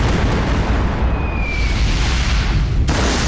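A volcano eruption attack in One Piece Pirate Warriors 3, heard as a loud, sustained roaring rumble of blasts and debris with a rising whoosh, cutting off abruptly near the end.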